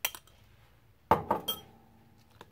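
Fish paste ingredients are mixed in a bowl, giving a few close clinks and knocks of a utensil against the dish. One sharper clatter comes in the middle, with quiet pauses between the strikes.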